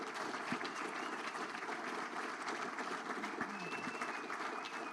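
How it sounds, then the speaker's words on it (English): Warm applause from a conference audience for the program committee at a network operators' meeting, a sustained, fairly soft wash of clapping that holds steady throughout without talk. "please give a big applause to the program committee"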